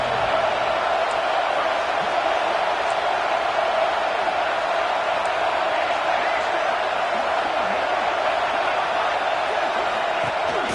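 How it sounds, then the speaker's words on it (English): Crowd noise at a college football game as the home fans roar to spur the defense in the red zone, a dense, sustained wall of sound, with a commentator talking over it. "here comes the noise. This crowd is trying to inspire this defense to make a big red zone stop."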